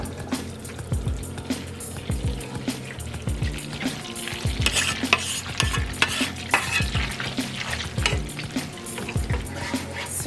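Chopped onions sizzle and fry steadily in melted butter over low to medium heat, with a stirring utensil scraping and clacking against the pan in a busy, close rhythm throughout.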